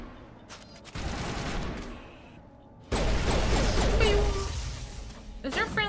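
Gunfire in the video game Mass Effect (Legendary Edition), dense bursts of shots and impacts in a firefight, loud and continuous with a sharp surge midway, mixed with other game effects and a voice talking over it.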